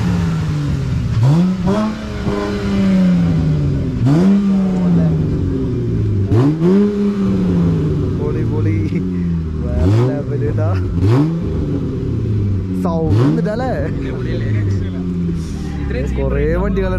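A Ford Mustang with a 3.6-liter engine revs repeatedly, each blip sweeping sharply up in pitch and falling back to idle, loud and close, roughly every two to three seconds.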